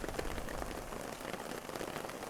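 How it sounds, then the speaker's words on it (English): Rain falling steadily on a hillside road in Tibet, a dense, even hiss of drops with no pauses, moderately quiet and heard alone. "It's now rain."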